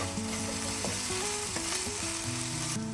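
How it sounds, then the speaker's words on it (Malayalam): A pan of food sautéing toward light brown, with a continuous close sizzle and occasional stirring scrapes and knocks over a steady low hum. "എല്ലായിട്ട് നന്നായിട്ടൊന്ന് വഴറ്റാം. ഒരു ചെറിയ ബ്രൗൺ കളർ വരുന്നവരെ നമ്മൾ വഴറ്റണം കേട്ടോ."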